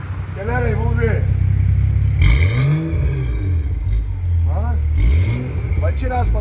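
A BMW car's engine is started and revved in a few rising and falling surges, loud and close, with a steady idle rumble between. Several people talk over it.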